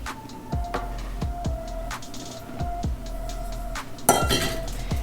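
Flour being mixed into chocolate chip cookie dough in a bowl by hand: repeated clinks and scrapes of a utensil against the bowl in a steady stirring rhythm, close and moderately loud, with a busier burst of clatter near the end.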